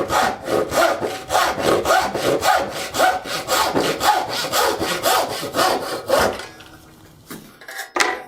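Hand saw cutting down through a slightly oversized wooden tenon, steady rhythmic back-and-forth strokes close and loud for about six seconds, then quiet with a brief scrape at the end.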